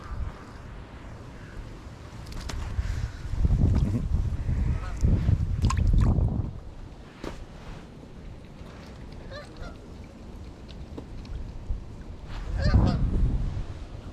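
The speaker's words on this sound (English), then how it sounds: "Oh, geese, yeah." Geese honk in loud bursts over a river, a flock calling repeatedly in clusters with quieter gaps between, fairly close and with no talking.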